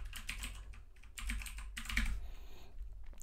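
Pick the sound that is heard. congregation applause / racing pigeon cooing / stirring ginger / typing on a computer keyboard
typing on a computer keyboard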